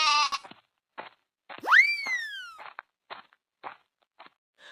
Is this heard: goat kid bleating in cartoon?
yes